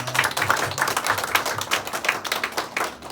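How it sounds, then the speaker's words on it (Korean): A church congregation claps together at a founding thanksgiving service, a brisk, dense patter of hands filling the room at steady loudness for a few seconds with no voices over it. "하나님께 영광의 박수 올려드리겠습니다."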